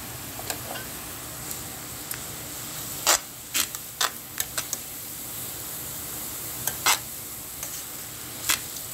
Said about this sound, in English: Just keep stirring it so it doesn't stick on the bottom or burn on the bottom.